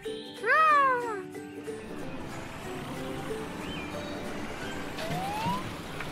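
A cartoon emergency vehicle's siren wails at a car wash, a loud rising and falling sweep at the start that fades into a quieter bustling background.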